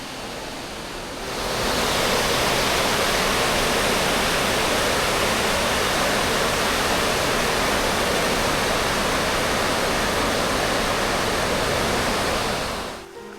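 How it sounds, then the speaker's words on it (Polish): A loud, continuous roar of several thousand litres of water per second rushing through a channel, swelling up after a quieter start and holding steady until it drops at the end. "wypływa tutaj nawet kilka tysięcy litrów wody na sekundę"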